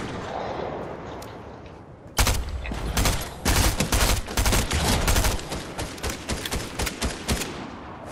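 Heavy gunfire in a Fortnite match, bursts of rapid shots erupting suddenly after a quieter stretch, then continuing in loud, dense volleys with short gaps, close and dominant.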